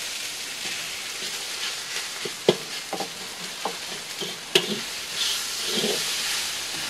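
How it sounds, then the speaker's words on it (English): Egg being stirred and fried with rice in a new wok, a steady close sizzle with scattered scraping clicks from the stirring and no talk. "Now I'm going to mix in the egg."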